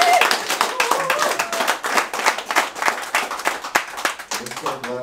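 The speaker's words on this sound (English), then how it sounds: "Can we give her a round of applause?" An audience claps steadily at a fireside chat Q&A session, a dense round of applause that carries on for several seconds with a few voices calling out over it.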